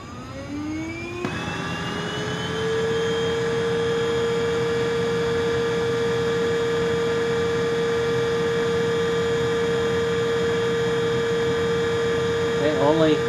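A PRETTYCARE W100 budget stick vacuum on low speed with its filter removed spins up from a rising whine into a steady high-pitched motor drone, running close and constant until a brief rattle near the end.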